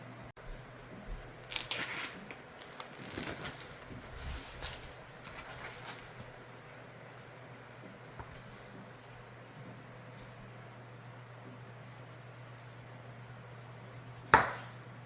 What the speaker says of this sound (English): And now it makes it a little easier to slice.